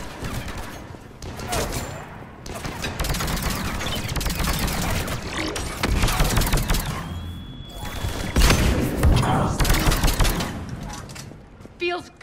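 Gunfire in Mass Effect 3 during an Omega firefight, dense rapid bursts of automatic shots close and loud for the whole stretch, with short gaps and brief voices mixed in.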